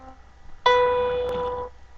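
A major seventh interval from C up to B sounds as a single sustained tone that starts abruptly, holds bright and steady for about a second, then fades, with no talking.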